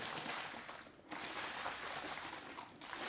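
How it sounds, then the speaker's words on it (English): A bottle of Metriq Fuel drink mix and water shaken hard, a dense rattling slosh that runs steadily with one brief pause before resuming, close and fairly quiet. "And give it another good shake."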